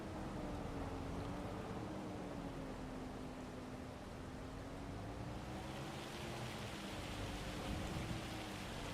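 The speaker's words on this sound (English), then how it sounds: "Uh-oh, now we got hail." Hail falls in the Farming Simulator 25 video game as a dense, even hiss of pelting ice that runs steadily for several seconds, with a low engine hum beneath and no voices.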